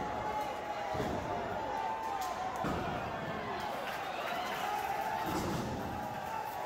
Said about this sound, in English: The thud of a strike or the impact when they take a bump.